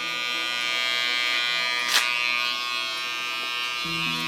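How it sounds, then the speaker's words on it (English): An electric hair clipper buzzes with a steady, close, tonal hum while its tip cleans the contour line of a haircut. The pitch shifts slightly as it touches the hair, and there is no talking. "Just with the tip of my clipper."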